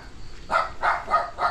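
A dog at a rural house gives four evenly spaced barks from a short distance, moderately loud, with no talk over them.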